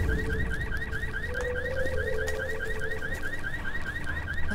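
An alarm in the video game Dead Island Riptide wails in a rapid repeating electronic warble, a fast regular pulsing tone that loops continuously over a low rumbling background, loud and unbroken.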